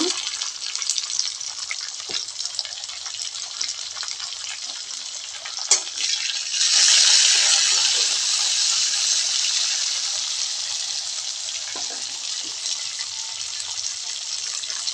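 Tomatoes and onion fry together in hot oil in a pan, a steady close sizzle that surges louder midway as the juicy tomatoes hit the oil, with intermittent stirring clatter.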